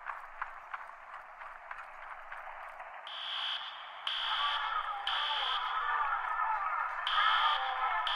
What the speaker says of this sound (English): Find the nearest fire alarm station and activate the alarm